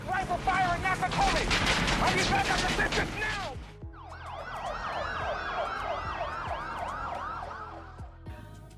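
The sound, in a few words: police car sirens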